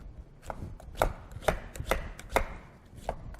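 A knife peels the dark green skin from a kabocha squash in a series of sharp, close cutting knocks, about a dozen irregular strikes over a few seconds with no talking.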